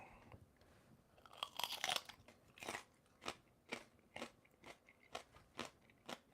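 A crisp bite into a crunchy, juicy sweet pepper followed by a steady rhythm of close, loud chewing crunches, with no talking.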